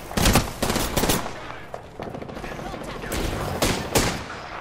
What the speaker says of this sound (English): where are these guys shooting me from, bro?